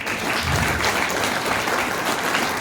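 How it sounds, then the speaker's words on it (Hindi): A seminar audience claps loudly for attendees from Haryana, producing a continuous, dense burst of applause from a large crowd with no pauses. "एक बार हरियाणा वालों के लिए खोल के ताली बजा दो।"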